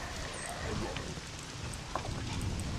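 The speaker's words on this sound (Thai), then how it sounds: "ฝนตกแบบนี้ฟ้ามันจะมืดๆครึ้มๆนะครับ" Steady rain falls in the survival game SCUM, a continuous dense hiss with faint patters running throughout the short stretch, loud and even with no speech.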